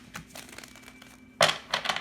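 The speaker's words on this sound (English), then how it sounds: "Let's give it one more shuffle." Tarot cards are shuffled nearby in soft, papery riffles and flicks, with a louder burst of shuffling near the end. The sound is quiet and close.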